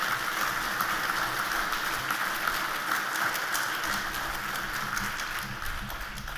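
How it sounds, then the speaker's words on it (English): Audience at an outdoor Australia Day ceremony applauding, a dense, sustained wash of clapping that holds steady throughout. "can we have another round of applause for Charles?"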